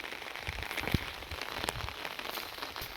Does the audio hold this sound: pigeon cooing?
no